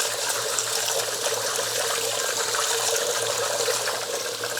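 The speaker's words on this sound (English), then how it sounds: "So we're gonna rinse our rice really well, about 3 to 4 times, or until that water is mostly clear." Rice being rinsed in a bowl of water for sushi, with continuous close swishing and trickling as hands scrub the grains, loud and steady with no talking.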